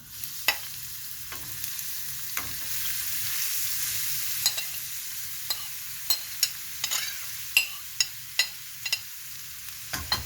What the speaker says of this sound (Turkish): Şimdi içerisine rendelemiş olduğum havuçlarımı ilave ediyorum.